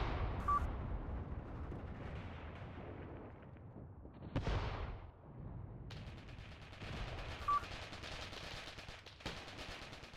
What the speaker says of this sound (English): Seems like we're being maybe targeted here by shelling as well.